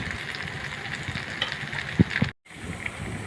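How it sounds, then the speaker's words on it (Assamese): Steady sizzling and spattering of chicken frying with turmeric and salt in a hot pan, with a couple of soft knocks near the end and a brief cut in the sound. "জোখমতে নিমখ দিয়াৰ পাছত এয়া ভাজি আছোঁ"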